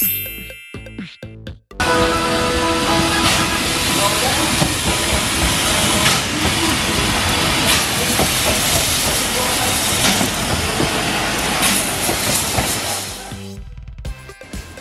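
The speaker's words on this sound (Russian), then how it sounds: "Паровоз – это локомотив с паровым двигателем." A steam locomotive rolls along the rails with loud hissing steam and a dense, steady roar, faint dinging tones above it, lasting over ten seconds before cutting off.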